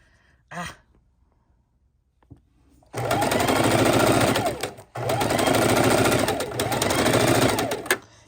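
A short breathy sound comes before a sewing machine starts stitching raw edge appliqué fabric, running loud and close in two long bursts with a brief stop between them.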